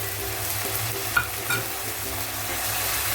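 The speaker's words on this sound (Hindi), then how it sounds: "अभी हम इसमें डाल देते हैं अदरक लहसुन का पेस्ट।" Ginger garlic paste frying in a pan for paneer tikka masala, a steady close sizzle with a couple of sharp stirring clinks.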